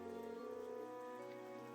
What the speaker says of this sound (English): I didn't think it was raining this hard